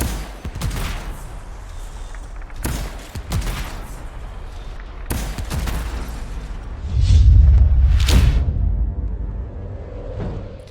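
Repeated heavy booming cannon shots in the video game Anthem, with sharp broadband blasts, several spaced bursts over a sustained low rumble, loud and close, no talking.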